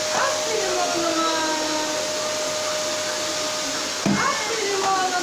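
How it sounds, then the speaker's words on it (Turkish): Electric vacuum cleaner running steadily through a house, a loud continuous whoosh that shifts in tone as it is pushed about, with an adult and someone talking over it. "Tamam, oraları da süpür, hadi burayı da süpür."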